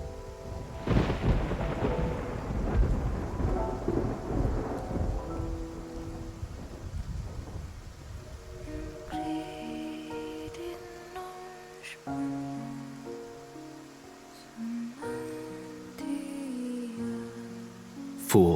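A storm at sea in the video game Love and Deepspace: heavy rumbling thunder and rushing rain and waves dominate at first, then fade under rising orchestral music with no talk.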